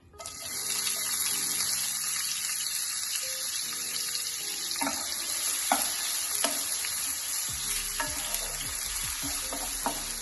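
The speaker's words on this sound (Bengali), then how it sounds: "এবার তেলটা গরম হয়ে গেলে তার মধ্যে দিয়ে দেব পেঁয়াজ কুচি" Chopped onion sizzling in hot oil and ghee in a pan, a steady loud fry with occasional stirring scrapes and clinks, no voices.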